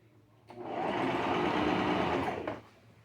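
A sewing machine stitches fabric with a steady, close motor whir lasting about two seconds, starting and stopping cleanly.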